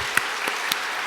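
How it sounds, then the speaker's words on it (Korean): Church congregation applauding during a Wednesday worship service, a short burst of steady, dense clapping with a few sharper claps standing out. "여러분, 이거는 박수 한번 보낼까요?"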